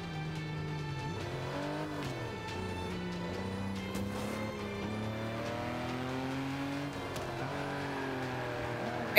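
Car engine in the Forza racing video game revving and wavering continuously as the car drifts, a steady mechanical drone with shifting pitch throughout, with no talk.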